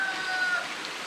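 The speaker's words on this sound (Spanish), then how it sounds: "Sigue lloviendo desde hoy a la madrugada." Steady rain keeps falling, a soft continuous hiss of drops on surfaces at a rural stopover near Oiapoque, Amapá, on the Brazil–French Guiana border, with faint high tones running through it.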